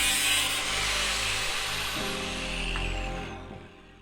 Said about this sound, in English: I cut the remainder of the electrical cabinet's lock off and then trimmed that side down to width too.